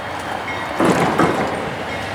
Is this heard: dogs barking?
no